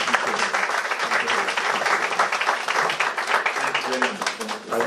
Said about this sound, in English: So let's hear another round of applause.